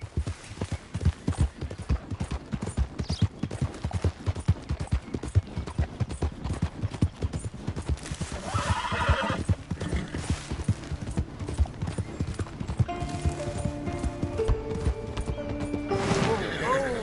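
Horse hooves clip-clop in a steady, rapid rhythm through Red Dead Redemption 2 gameplay, with a brief whinny and clinking tack over a busy game soundscape, fairly close and continuous.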